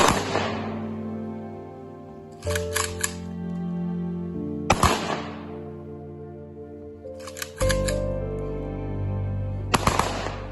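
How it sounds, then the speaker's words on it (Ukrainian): An honor guard fires three automatic rifle volleys at a soldier's funeral in Kryvyi Rih, each a sharp crack followed by rapid clattering echoes, separated by long pauses with a steady low tone underneath. "пролунали трикратні автоматні постріли почесної варти"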